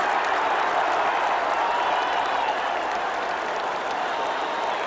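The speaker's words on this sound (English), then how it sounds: "Now the Washington fans cheer." Washington fans in a football stadium roar and applaud after an intentional grounding call, a dense, steady wash of crowd noise that stays loud and unbroken throughout.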